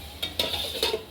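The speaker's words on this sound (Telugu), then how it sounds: "ఈ కూరలో పొన్ను టమాటాలు వేస్తున్నాను." Tomatoes go into a curry cooking in a pan, heard as a brief close burst of stirring scrapes and soft sizzling with a few quick knocks against the pan.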